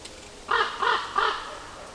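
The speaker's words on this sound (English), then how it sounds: "There are also some raven sounds that I recorded in a forest myself." Three hoarse caws from a raven in a forest, recorded for a video game, evenly spaced about a third of a second apart at moderate distance over quiet woodland air.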